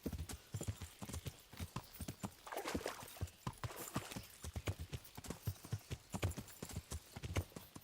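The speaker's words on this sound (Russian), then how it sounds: "Мощная лошадь." Steady clip-clop of horse hooves in the video game Kingdom Come: Deliverance, a quick rhythmic series of hard knocks close by, with a brief whinny partway through.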